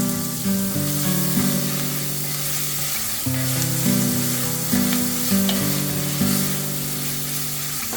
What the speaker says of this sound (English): add minced garlic and chopped onion and stir fry for a minute